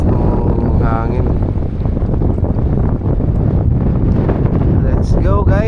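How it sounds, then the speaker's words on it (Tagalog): Strong wind roars and buffets the microphone continuously, with faint chirping sounds and some distant voices mixed in. "Lakas ng hangin."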